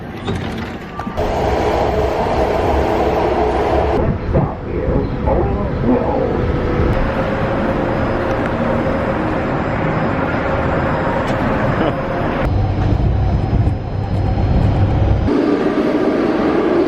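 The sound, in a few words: Baltimore metro subway train ride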